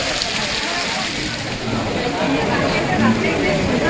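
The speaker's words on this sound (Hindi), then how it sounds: "अचानक से बादल आ गए, तूफान आ गई और झमाझम बारिश" Heavy rain pours down steadily in Punjab during a sudden storm, a dense continuous wash of noise with people talking over it.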